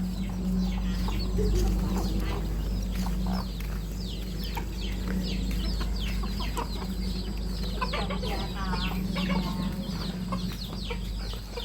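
Chickens and ducks kept at a rural Thai family home cluck and chatter steadily throughout, close by, with a constant low hum underneath.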